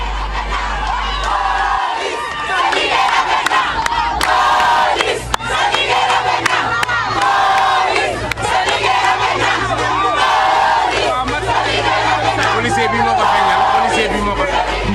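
A large crowd at the Pikine police station cheers and shouts loudly and continuously while carrying a police inspector in triumph, with dense overlapping voices throughout.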